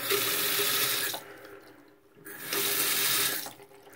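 Water runs from a repaired Delta faucet into a sink with a new washer, a steady loud rush that cuts off briefly, then flows again before easing, with no talking.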